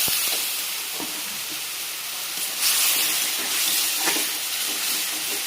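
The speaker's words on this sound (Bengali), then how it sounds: "এবার হালকা করে একটু জল দেবো, তা নাহলে মশলাটা পুড়িয়ে যাবে কষানোর আগে" Water poured into sizzling masala in a frying pan for an ajami potato paneer curry, giving a loud, steady hiss and spitting sizzle that swells briefly midway, close up with no talking.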